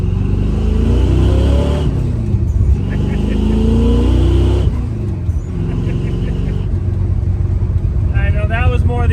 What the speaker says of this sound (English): I know that was more the engine,